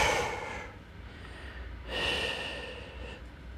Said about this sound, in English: Breathing heavily, this is really hard.